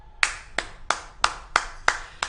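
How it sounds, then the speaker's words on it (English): Seven sharp, evenly spaced claps ring out at a steady beat, a single pair of hands clapping fairly close in a podcast studio setting, crisp and isolated with no voices over them. "The background clap."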